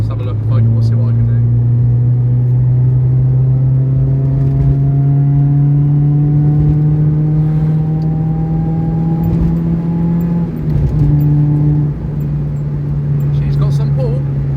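A 1997 Mazda RX-7 FD3S accelerates hard to overtake, its engine note climbing steadily in pitch as it pulls, loud and continuous from inside the car with a brief dip before rising again.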